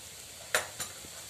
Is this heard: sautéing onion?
yes